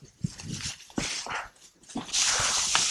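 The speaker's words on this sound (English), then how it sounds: "That's their stalking dog." A hunting stalking dog in the snowy Te Urewera bush whimpers and whines in short, close bursts, mixed with rustling and shuffling movement, with no clear talking.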